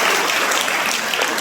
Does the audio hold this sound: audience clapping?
yes